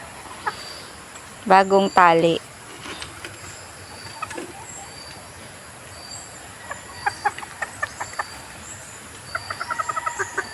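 Chickens and roosters at a morning feeding, with a brief loud crowing burst early on, then scattered clucks and short repeated calls, faint and mid-distance, while a person speaks intermittently.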